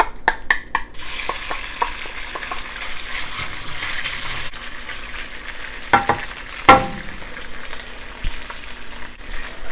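Sliced pork stir-frying in oil in a wok for a Sichuan-style lotus root dish, a loud initial crackle settling into a steady sizzle with scattered clanks of the spatula, close and without talk.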